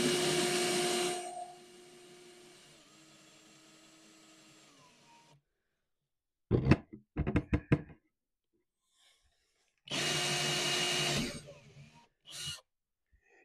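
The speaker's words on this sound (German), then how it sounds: "ich bohre mein Loch rein, Stichsäge einmal ringsherum" A drill boring a hole into a wooden board, then a jigsaw cutting around it in short, sharp bursts, with pauses of near silence between the separate tool runs.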